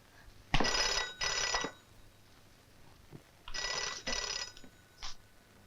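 An old-style telephone bell rings in two double bursts separated by a pause, loud and close in a domestic room, with no voices over it.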